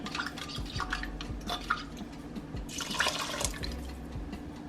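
Water swirled and stirred inside an emptied chicken soup can to loosen the leftover contents, a close sloshing and scraping with light metallic clinks, rising briefly midway.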